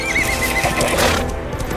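A horse lets out a loud, close whinny, a single shaky neigh with wavering pitch lasting under two seconds, with a few hoof clops underneath.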